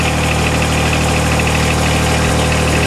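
Kubota PX24 tractor engine with front loader and backhoe idling steadily right after a cold start, a continuous close mechanical rumble with constant vibration and no talking.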